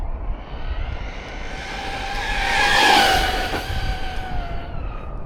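ARRMA Granite V4 223S BLX brushless RC monster truck driving past outdoors, a steady electric motor whine that rises and peaks near the middle as it passes close, then fades slightly, with tire noise underneath and no talking.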